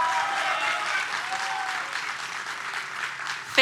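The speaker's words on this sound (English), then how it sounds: "Big round of applause for Ketan." Audience applause at a workforce skills conference as a participant is called up, continuous crowd clapping with faint murmuring underneath, ending in a brief loud burst.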